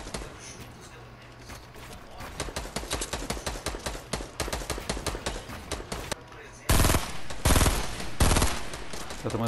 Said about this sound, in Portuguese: Tá tomando tiro de outro.